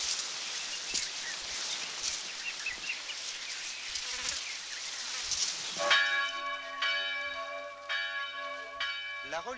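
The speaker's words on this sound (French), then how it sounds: "Le dimanche matin, à l'appel de la cloche, les fidèles se rendent à la cathédrale pour assister à l'office." A Sunday morning cathedral church bell in the Marquesas Islands rings out with clear ringing strikes that sustain and overlap, following a stretch of outdoor insect buzzing and rustling.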